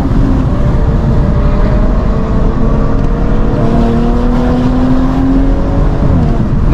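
A Fiat 128 Ti rally car engine accelerates loudly and close up during a rally race, its pitch climbing steadily through the revs as a strong, continuous roar with no talk.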